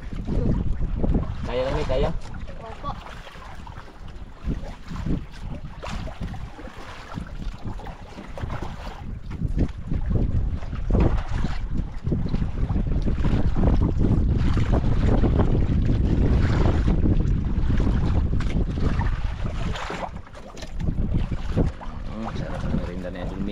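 Wind blusters over a boat at sea during a grouper fishing trip, a rough, rushing roar against the microphone that swells and eases for the whole stretch, with faint voices in the background.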